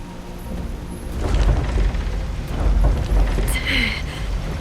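A heavy stone mechanism in the video game Where Winds Meet grinds and rumbles as it is pushed and rises, a loud, continuous low churning with deep surges and a brighter chime-like flourish near the end.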